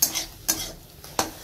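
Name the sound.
Malabar spinach frying with garlic, stirred in pan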